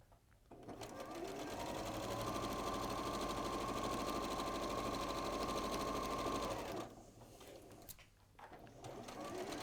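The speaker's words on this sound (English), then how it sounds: "it's a 1/4 inch seam, you're just going to sew those together." A sewing machine runs steadily for about six seconds stitching a 1/4 inch seam, a loud close whirring drone with rapid needle rhythm, then stops and leaves quieter handling sounds.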